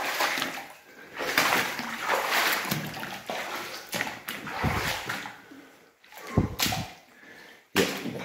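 Boots wade through water in the Goldfields mine and rail tunnel, giving irregular splashes and sloshes close by, with a few sharper splashes and some heavy breathing between steps.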